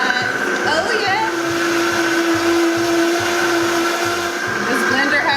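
A kitchen blender runs continuously with a loud, steady motor whir and a pulsing low churn, close by, while voices talk over it.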